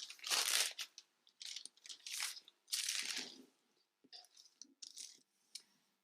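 Scissors cut across the waist of a paper bodice back pattern, giving close, crisp snipping and crinkling bursts in an irregular rhythm with brief pauses.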